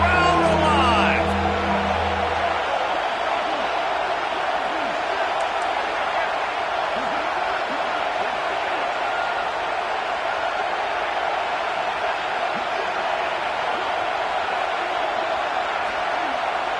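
Stadium crowd in a football video game during a third-down red zone play: a steady, loud wash of cheering roar that fills the whole stretch, with a brief burst of other sound at the very start.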